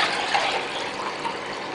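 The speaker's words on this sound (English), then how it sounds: "I'll just pour it into this jug all in one go." Homemade kombucha is poured in a single go into a jug, a short, steady gush of liquid filling the vessel, fairly quiet and close with no talk.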